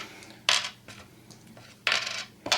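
Hex-shaped board game tokens drawn from a bag, giving three bright clattering bursts of clinking pieces separated by quieter rustling, close and fairly loud with no talking.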